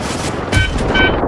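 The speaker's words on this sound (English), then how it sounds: "Someone shot me in the air." Gunfire in the Ravenfield combat game, a dense rattle of shots with a sharper burst midway, loud and continuous over the whole short stretch with no talk.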